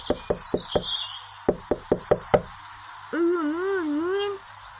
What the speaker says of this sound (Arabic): في حد بيخبط.